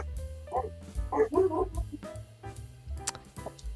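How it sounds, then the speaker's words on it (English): An excited dog barks a few times in quick, uneven bursts, fairly faint and mixed with background sounds. "dog sounds excited"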